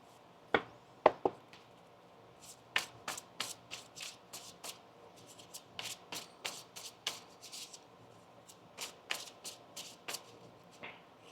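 Tarot cards being shuffled by hand: a series of crisp riffling bursts and soft taps, quiet and close, with pauses between.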